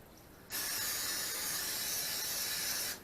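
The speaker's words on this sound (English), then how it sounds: "I'm going to spray them" A steady hiss of cooking spray coats baking pans for keto bread loaves, one continuous burst of about two and a half seconds, close and fairly loud against a quiet room.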